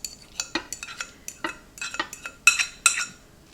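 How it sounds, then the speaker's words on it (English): A spoon clinks and scrapes against a bowl in an uneven, repeated rhythm while stuffed shell filling is mixed with egg for lasagna-stuffed jumbo shells. The sound is close and crisp, with no talking. "we're going to mix this until everything is nice and incorporated"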